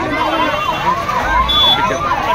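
An ambulance siren wails on a road during a student protest, its rising and falling tone repeating steadily at moderate distance while people talk over it.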